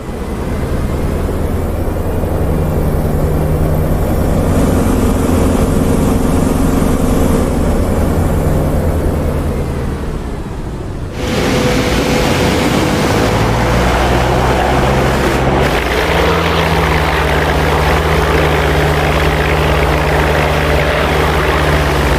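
A deep, steady Double Wasp radial engine of a P-47D Thunderbolt in a flight simulator game drones loudly at high power, briefly dipping before surging back with strong low harmonics throughout.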